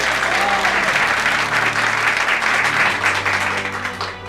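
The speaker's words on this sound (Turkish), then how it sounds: "Alkış." A large crowd applauds loudly and steadily, a dense wash of clapping that tapers slightly toward the end.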